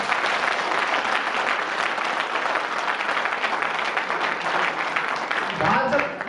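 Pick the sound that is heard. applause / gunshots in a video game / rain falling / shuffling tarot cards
applause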